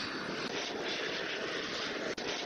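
A jet aircraft engine from the Unturned video game roars in a steady, loud, broad rush that holds throughout with one brief dip near the end, no talk.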